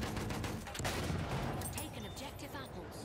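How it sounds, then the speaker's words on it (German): In a Battlefield 1 game, bullets rain against and fall into a tank in a dense, continuous metallic clatter with crackling gunfire, steady and fairly loud throughout. "Hört ihr die ganzen Kugeln, die reinfallen?"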